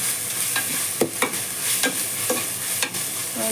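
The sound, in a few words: ginger garlic paste frying in a pan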